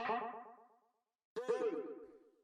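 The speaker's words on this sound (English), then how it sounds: "this little vocal chop drum" Two pitched vocal chop samples from a tech house drum rack play in turn, each with a bouncy, echoing, effected tail. A short gap separates them, and the second one is brighter.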